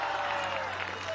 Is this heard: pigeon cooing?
no